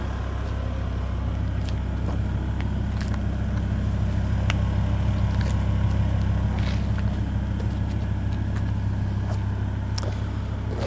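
A 2006 BMW M5 with a V10 engine idles, heard close to the exhaust. Its deep, steady rumble continues throughout, with faint light clicks and ticks over the top.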